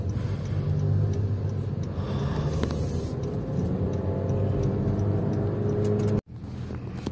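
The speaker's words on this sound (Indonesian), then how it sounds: "perjalanan saya memakai BRV yang all model yang CVT untuk tanjakan atau di perbukitan ke arah Sukorejo aman-aman saja" A Honda BR-V with a CVT automatic climbs a hill road. The engine and road noise make a steady rumble that stays fairly loud, with a brief dropout near the end and no talk.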